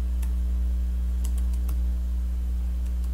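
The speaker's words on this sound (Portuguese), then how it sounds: "E vamos digitar aqui na legenda" A few scattered keystrokes clack on a computer keyboard, sparse and close over a constant low electrical hum.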